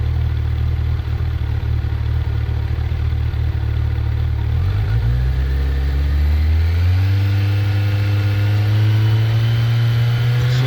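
A Kawasaki Ninja 1100SX fitted with an aftermarket slip-on exhaust idles loudly up close, then the engine is revved up and held at a higher, steady droning pitch that keeps rising slightly, with no talking.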